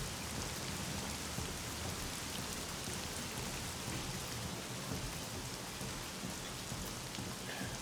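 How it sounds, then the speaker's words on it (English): Heavy rain in the video game The Medium, a dense, steady downpour hissing across the surface at a constant loud level for the whole stretch, with a low rumble underneath. "I'm not saying that because there's heavy rain"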